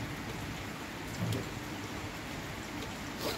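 Steady rain falls outdoors on a morning, a continuous hiss of drops on surfaces with a few louder splashes, no voices.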